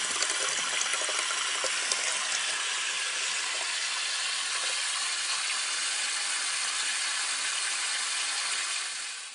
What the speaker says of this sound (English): we're letting the water run in a low spot, and it runs right down into the catch basin